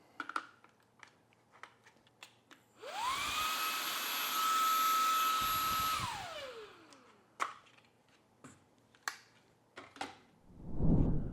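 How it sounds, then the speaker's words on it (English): A Shark WV201 WandVac cordless handheld vacuum spins up for a few seconds of loud, steady whine with a rising and falling pitch, surrounded by clicks and small handling knocks before and after. "Now let's give it a quick suction test to see how this handheld vacuum works freshly out of the box."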